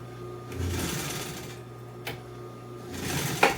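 A sewing machine runs in short bursts, stitching car upholstery for a 1955 Chevy two-door post interior on about a quarter-inch stitch, a close mechanical whir that stops and restarts.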